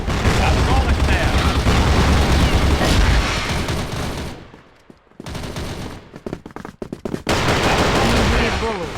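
In the shooter game Crossfire, a frag grenade blast and rapid gunfire fill the mix loudly, then drop away briefly before bursts of shots return, with voices talking over the action.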